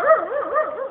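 A puppy in a village yard in Goa, India, gives a continuous series of high, wavering yelps and whiny barks, close and fairly loud, with no talk over it.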